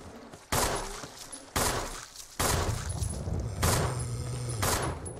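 Several bursts of rapid gunfire from the video game Resident Evil, each volley a loud crackling spray lasting about a second, separated by brief gaps with a low rumbling tail between shots.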